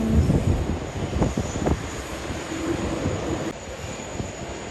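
A Qantas Boeing 787-9 bound for Vancouver takes off at Sydney Airport, its broad engine roar steady and fairly close. The sound eases slightly toward the end.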